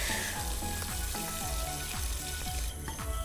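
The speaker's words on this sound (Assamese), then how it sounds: "চাউলখিনিও মই অলপ ৰঙচুৱা হোৱালৈকে ভাজি থাকিম" Basmati rice frying in a pan for pulao, a steady close sizzle with repeated soft scraping strokes as it is stirred, continuous throughout with no talk.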